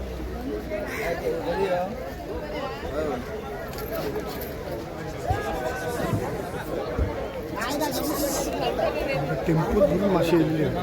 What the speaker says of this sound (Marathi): भरपूरशी गर्दी आहे